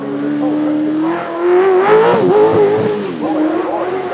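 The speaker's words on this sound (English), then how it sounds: "It's a Vauxhall Cavalier Mk1 with its big grunty Chevrolet engine." A Vauxhall Cavalier Mk1 Super Saloon race car nicknamed Mega Bertha, powered by a big Chevrolet V8, snarls past loud and close, its deep engine note rising and wavering as it revs hard, with a hint of tire noise.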